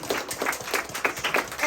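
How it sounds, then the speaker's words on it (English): Brief, scattered clapping from a small audience at a community event, a handful of soft, uneven claps sounding at moderate distance. "So everyone, give yourself a round of applause."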